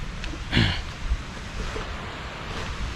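A rain-swollen stream in the Darjeeling hills, a steady broadband rushing of flowing water with some wind buffeting the microphone, one brief louder gust near the start.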